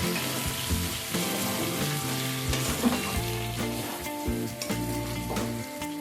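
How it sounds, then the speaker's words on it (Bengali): Chicken with potatoes for a Bengali curry, mixed with spices including Kashmiri chilli powder, is stirred steadily in a hot pan, sizzling and scraping continuously at close range over a background of music. "এবার মশলার সাথে চিকেনটাকে ভালোভাবে মিশিয়ে নেব।"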